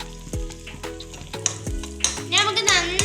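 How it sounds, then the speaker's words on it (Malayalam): Coconut pieces fry in ghee in a pan, a close sizzle mixed with repeated scraping and stirring strokes that grow busier and louder toward the end. "നമുക്ക് അതിലേക്കുള്ള കുറച്ച് തേങ്ങാക്കൊത്ത് ഒന്ന് വറുത്തെടുക്കാം"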